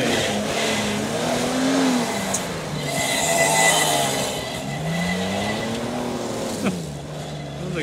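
A GMC Jimmy does a burnout on a burnout patch, its engine held at high revs that rise and fall while the tires spin and squeal continuously for several seconds, loud and close.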